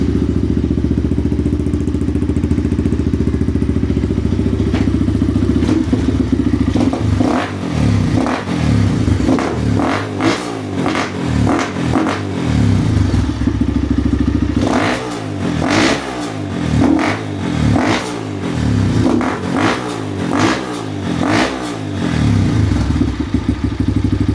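Kovi 250 motorcycle engine after carburetor cleaning and tuning, warmed up, revving loudly in a series of sharp throttle blips, each dropping quickly back to a steady idle, close to the microphone with no talking.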